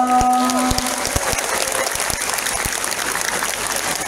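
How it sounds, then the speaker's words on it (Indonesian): An audience of young students breaks into steady, dense applause at a youth gathering, continuous clapping filling the room with a few brief voices at the start. "tepuk tangan dong"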